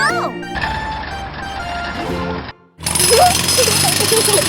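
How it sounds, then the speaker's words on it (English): A drilling machine breaks leftover cement on a road, a loud, continuous hammering rattle that cuts out briefly, then resumes with squeaky, chirping cartoon sounds over it. "Drilling machine breaks the leftover cement on the road."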